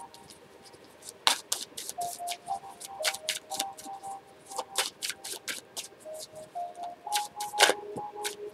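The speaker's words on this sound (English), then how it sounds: "And y'all see me shuffling these cards." Tarot cards shuffled by hand, a close run of sharp, rapid card slaps and riffles in irregular bursts over a faint thin background tone.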